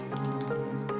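Mustard seeds splutter in a ladle of hot oil for a tomato curry, a dense close crackle with scattered sharp pops and a steady sizzle underneath.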